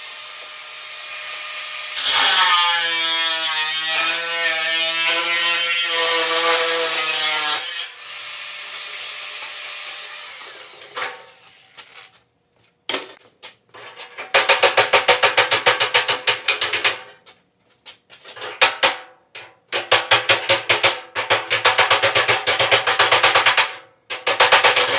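A power tool cuts damaged sheet metal out of a 1950 Chevy 3100 fender. A steady whining tone runs first, then harsh bursts of cutting start and stop in loud, close, irregular runs.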